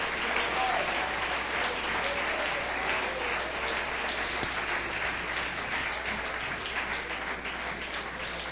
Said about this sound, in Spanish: Denle ese aplauso, no se canse, que Él sí que se merece la gloria en esta noche.